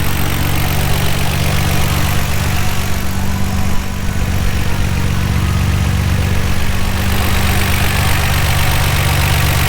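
A white Nissan R33 GTR with TE37 wheels and about 122,000 kilometers idles close by, a loud, steady low-pitched engine drone that holds evenly throughout with no talking.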